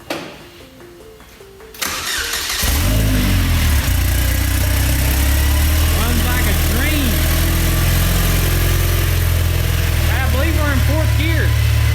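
A salvaged race car's engine cranks briefly, catches and fires up loudly, then settles into a steady, rumbling idle up close, with a few faint voices over it.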